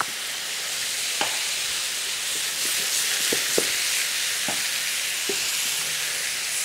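Pork fillet sizzles steadily in a hot frying pan, a constant crackling hiss broken by occasional sharp pops and scrapes.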